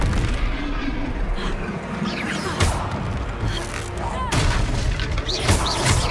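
Confringo blasting spells go off in the Hogwarts game as a continuous, loud battle din, with booms, crashes and sharp bursts layered over a busy rumble and a few clearer hits standing out.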